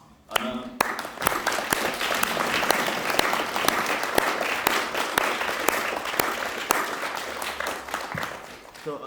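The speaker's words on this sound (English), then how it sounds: "give him a massive round of applause" A large audience at a talk at King's College London gives a sustained round of applause, dense clapping that swells quickly and holds steady for several seconds before tapering.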